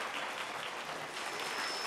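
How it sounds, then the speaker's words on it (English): Audience at a journalism day ceremony applauds with dense, even clapping at moderate distance, steady throughout the short burst with no voices on top. "Give yourselves a round of applause."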